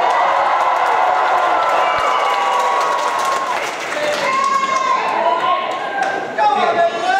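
A choir concert audience at a Christmas show cheers and applauds loudly and continuously, a dense crowd roar with clapping that carries on throughout.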